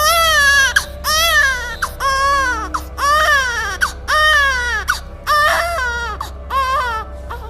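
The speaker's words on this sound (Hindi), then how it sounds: "इतनी रात को जंगल में बच्चे के रोने की आवाज, ये कैसे हो सकता है?" A baby cries at night in a forest, loud and close, in repeated wailing bursts with short gasping pauses over a steady low background hum.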